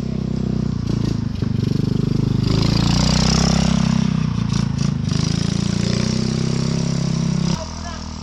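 A motorcycle engine runs steadily and close on a group ride in Laurel, Batangas, with a loud, throbbing low rumble that drops off near the end, while voices talk over it.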